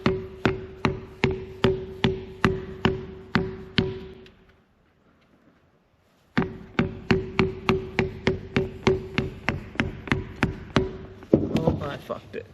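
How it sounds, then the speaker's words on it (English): A hammer striking a part from an antique Caterpillar RD4 tractor transmission: loud, sharp, evenly spaced blows close by, a steady run of about ten, a pause of silence, then a longer series of rapid strikes. "I'm going to smack it with a hammer and hopefully it leaves an imprint"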